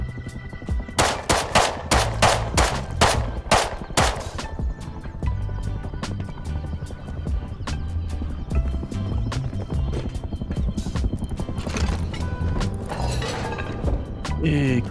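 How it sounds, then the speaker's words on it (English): Heavy turret gunfire in the game Rust: a loud, rapid burst of evenly spaced shots in the first few seconds, then a dense, continuous clatter of game sounds and further shooting. "Big turret."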